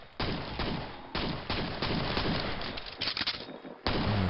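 Sustained rapid gunfire in the Quake video game, a dense, loud fusillade of shots that continues almost without pause, with only brief gaps and no talk.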